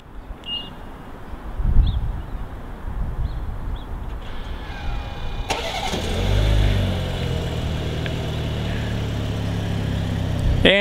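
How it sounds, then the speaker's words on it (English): A 2019 BMW 330i xDrive starts remotely from its key fob: a few faint chirps, then the engine cranks and settles into a steady, moderately loud idle heard from nearby. "And the car starts."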